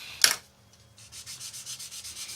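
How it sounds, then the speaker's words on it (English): A sanding sponge smooths a plastic part from an Eduard 1/72 B-24 model kit: one sharp knock, then a steady run of about ten soft, close back-and-forth rubbing strokes. "come along with a sanding sponge"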